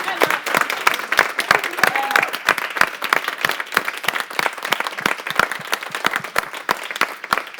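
Loud, sustained applause from a summit audience for a group of hosts, many hands clapping densely with prominent sharp individual claps, close and continuous, with some voices underneath.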